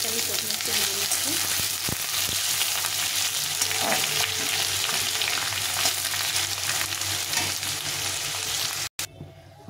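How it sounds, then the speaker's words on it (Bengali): Potato chunks fry in hot oil in a pan for a vegetarian curry, giving a steady, loud, dense sizzle throughout with occasional stirring, ending in a brief cut. "আলুটাকে আমি প্রথমে একটু ভেজে নিচ্ছি।"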